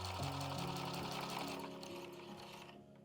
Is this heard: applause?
no